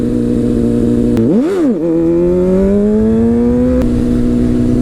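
A Honda CBR sport bike engine revs hard during a wheelie, a loud steady roar that dips and surges once before climbing smoothly in pitch, close and alone with no talk.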